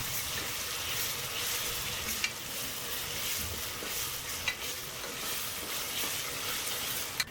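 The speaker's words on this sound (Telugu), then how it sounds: "అల్లం వెల్లుల్లి పేస్ట్ వేసుకోవాలి ఇది పచ్చివాసన పోయేంత వరకు వేయించుకోవాలి" Ginger garlic paste fries in a pan for goat head curry, a dense, even sizzle held up close, with a few light stirring clicks scattered through it and no voices.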